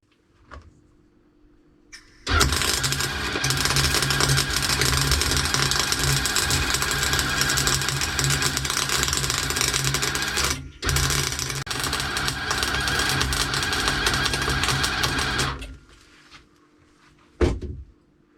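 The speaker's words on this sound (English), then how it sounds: "break out the welder." Welding on a bracket for a recycled garage door, a loud steady crackling buzz that runs without a break for about thirteen seconds, with one short pause near the end, and is framed by quiet shop background.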